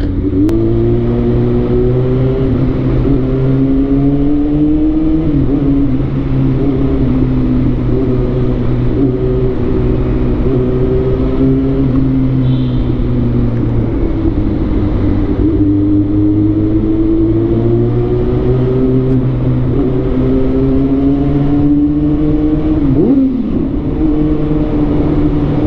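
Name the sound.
motorcycle engine while riding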